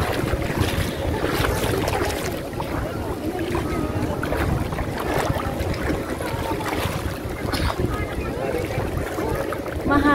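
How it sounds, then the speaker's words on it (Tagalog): A jet ski engine drones steadily over water at Subic, mixed with heavy wind buffeting the microphone and splashing, loud and continuous throughout. "So, ito ulit yung jet ski, guys."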